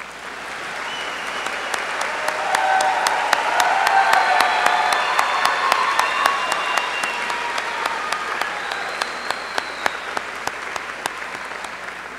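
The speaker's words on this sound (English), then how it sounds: "Now, if you want to applaud them again," A high school graduation audience applauds again, a long steady wave of many hands with one nearby clapper beating a regular rhythm on top, cheers rising faintly in the middle.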